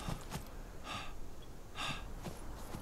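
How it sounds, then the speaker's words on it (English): A hunter's breath panting in the video game Primal Hunt: a few sharp, airy gasps come at uneven intervals. They are moderately close and quiet over a soft background, with no talk. "I can hear my breath panting as well"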